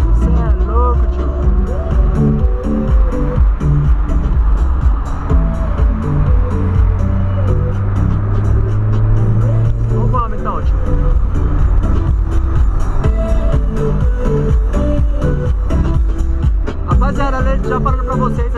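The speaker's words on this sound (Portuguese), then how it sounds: "Acelerando e som alto no polo" Volkswagen Polo engine revving and accelerating under loud car stereo music playing inside the cabin, heavy bass steady throughout, with someone talking over it.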